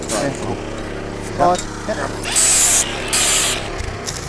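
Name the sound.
power tool cleaning up welds on gate hinges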